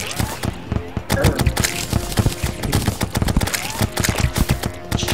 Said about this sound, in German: Schieß mit der Harpune, verdammt!